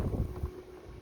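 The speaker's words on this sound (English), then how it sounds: "it's pretty windy today" Strong wind buffets a microphone outdoors in Florida, producing low, gusty rumbling bursts that swell and fade over a brief moment, with no talk.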